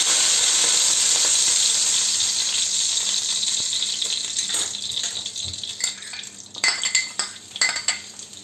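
Sliced garlic frying in the same oil already used for pork loin and longaniza sausage, a steady bright sizzle with occasional utensil clinks and rattles growing louder toward the end.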